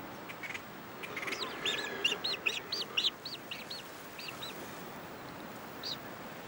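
Dark seabirds (viudinas), finely marked with a white snowflake patch on the crown, calling at their seaweed nests; a quick run of repeated, rising nasal calls in the middle over steady background noise, with a few scattered calls before and after.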